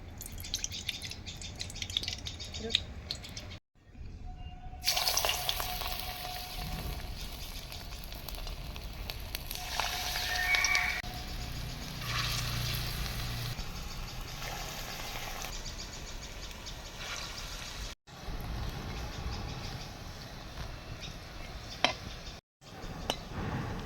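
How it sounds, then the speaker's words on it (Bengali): Bottle gourd kofta balls frying in white oil in a pan, a steady close sizzle and crackle that rises and falls, with brief drops to silence and no talking. "ভালো করে মেখে নিয়েছি, এবার ভেজে নেব। সাদা তেল,"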